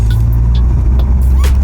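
Renault Megane mk3 driving over a bumpy road, heard from inside the cabin as a steady loud low rumble of road and engine noise with small thumps from the suspension, and no voices.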